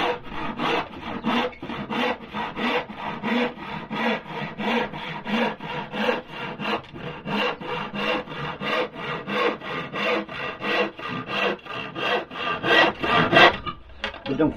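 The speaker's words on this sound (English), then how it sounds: "don't force it, let the saw do the work." Hand saw cutting wood with steady back-and-forth rasping strokes, about two per second, close and even throughout, with no talking.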